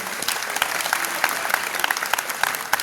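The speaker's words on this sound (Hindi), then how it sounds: "एक बार आप ताली बजा करके मुझे माहौल दें।" A poetry audience at an Aiwan-e-Ghalib nazm recital by Imran Pratapgarhi breaks into dense, steady applause, a loud wash of many hands with sharper individual claps popping out near the front, and no talking.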